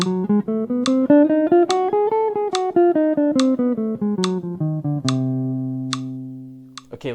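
A guitar plays a diminished scale pattern in C: a steady run of single picked notes climbing and then descending in even rhythm, each note sharply plucked, ending with a few sustained notes ringing together before a final pluck, with no talking.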